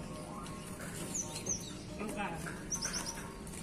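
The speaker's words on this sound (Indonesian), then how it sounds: "Lokal niki, Pak, kenari nih, Pak." A local male canary chirps and trills in short bright bursts over a busy background of people talking nearby.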